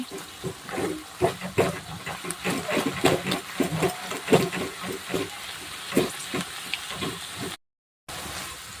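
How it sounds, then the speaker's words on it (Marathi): Spices frying in hot oil for a Maharashtrian matki bhaji, giving a steady hiss dotted with irregular crackles and pops up close, before a brief dropout near the end. "छान असा तेलामध्ये तळून घ्यायचा आहे"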